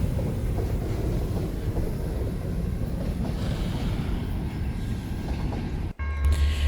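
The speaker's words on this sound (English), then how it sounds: "Leading H-GAL CNI is a Illinois Central Death Star SD70." Illinois Central SD70 locomotive in Death Star paint leads a freight train past at close range, a loud steady rumble of wheels and engine with wind buffeting the microphone, cut by a brief dropout near the end.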